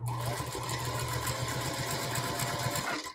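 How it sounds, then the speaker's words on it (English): A sewing machine stitching a pillow seam forward and back, a loud steady close-up whir with rapid needle clatter running continuously throughout. "So a couple stitches forward, couple back."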